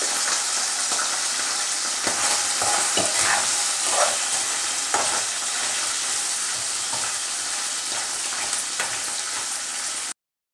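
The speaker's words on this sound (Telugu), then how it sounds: "దాంట్లోకి ఒక అర స్పూను అల్లం వెల్లుల్లి పేస్ట్, అది పచ్చివాసన పోయేదాకా కలదిప్పుకోవాలి" Ginger garlic paste sizzles and fries in a pan on a gas stove set to low while being stirred, with a steady hiss and scattered scraping strokes of the spoon across the pan.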